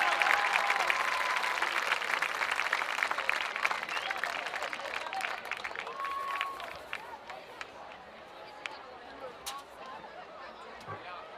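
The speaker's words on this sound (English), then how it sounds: "let's give these state champions a great round of applause" Stadium crowd at a high school senior night applauding a state champion golf team, a broad roar of clapping and cheering that starts loud and gradually thins out, with crowd chatter underneath.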